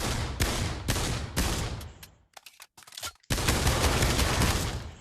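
Rapid volleys of gunfire from a heavy-kickback gun in the video game Pavlov, loud bursts of shots, a short sparse gap with scattered pops, then sustained firing again.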